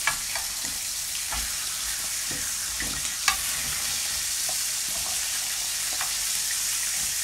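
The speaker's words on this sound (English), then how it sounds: "all we're doing is just frying these off, and we're after getting a little bit of colour on them" Chorizo pieces fry steadily in a pan for one-pan flamenco eggs, a loud continuous sizzle with occasional stirring scrapes and small pops throughout.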